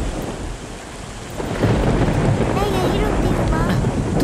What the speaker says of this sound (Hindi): पता नहीं इतनी बारिश क्यों हो रही है